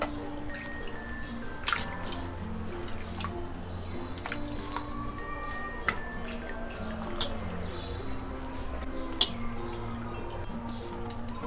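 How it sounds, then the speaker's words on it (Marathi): Mushrooms being rubbed and rinsed in a bowl of water for a dhaba-style mushroom masala, with close, irregular drips, splashes and soft squishing throughout. "अजून एक पाण्यात धुवायचं ते।"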